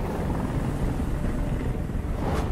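A helicopter in the video game Detroit: Become Human gives off a steady, rumbling rotor drone that fills the scene at constant loudness with no other sounds.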